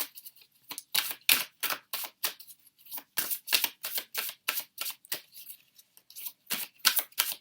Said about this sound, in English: I shuffle the cards and I place them into the piles.